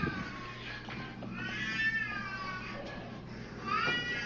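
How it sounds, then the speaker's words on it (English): A cat meows and yowls in drawn-out, rising cries, mixed with a steady low hum and some background talk. "That's a cat."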